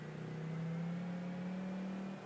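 The Majesty car's engine hums steadily while driving in Mafia 3, a smooth mid-pitched drone that rises slightly in pitch and holds loud and close before easing off at the end.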